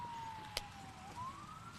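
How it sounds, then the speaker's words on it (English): An emergency vehicle siren wails steadily in the distance behind a beep baseball game, a thin gliding tone held under faint crowd and field ambience, with one brief sharp knock partway through. "Have a siren back behind us."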